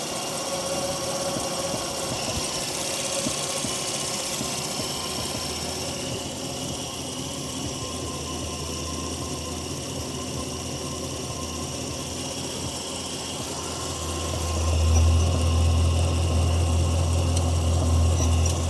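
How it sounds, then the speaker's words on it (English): A Mazda RX-7 rotary engine with leaking injectors idles steadily up close, with a whirring spinning fan and a continuous buzzing drone that deepens and swells near the end. "Keep my hand away from the spinning fan there."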